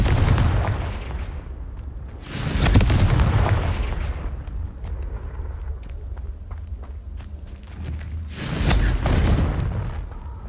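Confringo spell blasts go off in Hogwarts Legacy, two loud bursting explosions several seconds apart with rumbling decay, set against continuous combat noise and movement.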